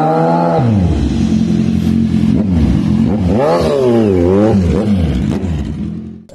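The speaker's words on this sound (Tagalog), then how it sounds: "Grabe ingay ng motor mo." A loud Kawasaki Z1000 motorcycle with an SC-Project 61mm exhaust revs repeatedly, its pitch sweeping up and down in throaty bursts, close by and continuous throughout.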